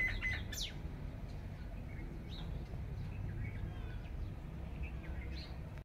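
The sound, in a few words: birds chirping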